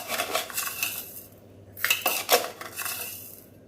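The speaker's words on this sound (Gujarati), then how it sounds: "તે પહેલાં આપણે 2 ચમચી ખાંડ એડ કરી દેવાની" A metal spoon clinks and scrapes against a pot while sugar is added to ginger tea, a few close, light chinks over a soft background hiss.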